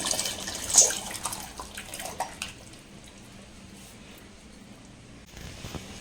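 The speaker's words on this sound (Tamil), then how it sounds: "பருப்போட நம்ம தண்ணி கொஞ்சம் அலசி ஊற்றிருக்கோம்" Water poured into cooked lentils for a wedding-style vegetable sambar in a home kitchen, a splashing pour at the start fading into a soft steady trickle and watery hiss, no talk.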